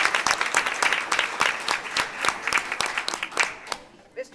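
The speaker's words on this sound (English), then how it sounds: "Let's have another round of applause for all our top Tigers." Sparse, uneven clapping rises at a school board meeting for student award winners, individual claps standing out against a small room before it thins and stops.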